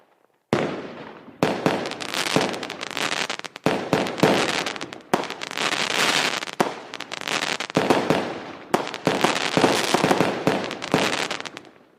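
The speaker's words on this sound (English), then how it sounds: "let me give you some fireworks as well" Loud fireworks sound effect played during a live stream, a dense run of crackling bursts and pops in repeated waves for about eleven seconds, close and continuous with no talking.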